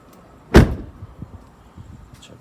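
Door of a 2017 Ford F350 6.7 Powerstroke diesel pickup opening: one sharp, loud latch clunk near the start, followed by faint rattles and small handling noises.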